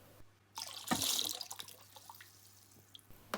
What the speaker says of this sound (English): hold it vertically above the bucket to drain the remaining water into it